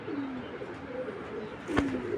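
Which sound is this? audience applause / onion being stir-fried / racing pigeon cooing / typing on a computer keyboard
racing pigeon cooing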